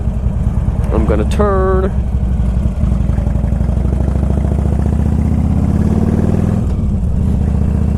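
A Harley-Davidson Ultra Classic motorcycle engine rumbles steadily at riding speed, with a brief rev and a turn-signal beep near the start, while a rider talks over the constant drone.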